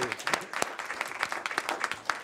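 Brief burst of applause at a board of trustees meeting honoring outgoing student trustees, dense overlapping claps at close range with a few louder individual hits.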